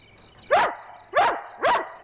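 A hound dog barks three times, loud and close, with evenly spaced sharp woofs over a quiet background.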